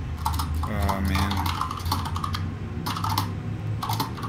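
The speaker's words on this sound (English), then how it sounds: "Is that a mechanical keyboard right here?" Keys clatter on a mechanical keyboard with blue switches in quick irregular bursts, close and fairly loud, pausing briefly between runs of clicks.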